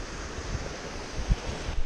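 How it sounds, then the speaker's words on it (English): Ocean surf washes steadily on a beach at Bald Head Island, a continuous rushing roar mixed with wind buffeting the microphone and a couple of low thumps, with no voices. "Not many waves today."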